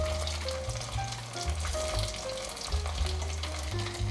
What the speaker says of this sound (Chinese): 锅内放入足够的油，油热了，一片一片放进来炸，用筷子拨散